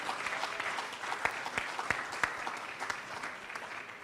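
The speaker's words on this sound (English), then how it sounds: "A bigger round of applause" Audience applause at an e-commerce summit evening session, a steady wash of many hands clapping at moderate distance, with a few sharper individual claps standing out, continuing throughout with no talking.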